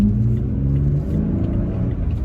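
A Toyota Tacoma pickup fitted with a Sprint Booster accelerates, its engine rumbling loud and steady from up close throughout with a rising rev, and no talking.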